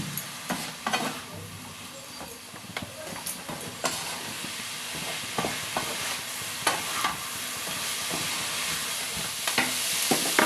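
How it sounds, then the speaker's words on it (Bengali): Vegetables fry in a pan with ground cumin, coriander and Kashmiri chili powder, a steady sizzle with bursts of stirring scrapes throughout, close and fairly loud, no talking. "1/2 চামচ দিয়ে দেবো কাশ্মীরি গুঁড়ো লঙ্কা দিয়ে এটাকে ভালো করে ভেজে নিতে হবে।"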